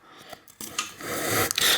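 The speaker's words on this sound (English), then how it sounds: "Now the hairdryer wasn't necessary to remove it, so I'm gonna scrape it off." A plastic scraper rasps against a sticker on a Fuji Nevada mountain bike frame. A few faint scuffs give way to a steady, close, gritty scraping that builds in loudness, with no voices.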